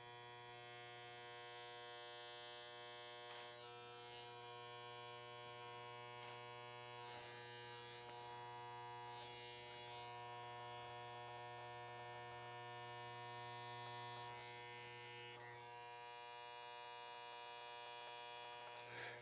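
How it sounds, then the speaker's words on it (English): Electric hair clippers with the adjustable blade closed halfway, cutting a short Princeton-style Ivy League haircut: a steady, close, loud motor buzz runs throughout, shifting slightly in tone as the blade passes through hair, with no talking. "Then we're going to close the clipper blade halfway."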